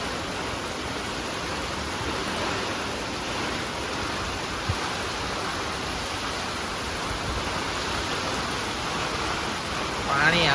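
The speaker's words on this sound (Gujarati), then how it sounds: "બહુ વરસાદ છે." Heavy rain pours down in a continuous, dense hiss that stays loud and even from start to finish.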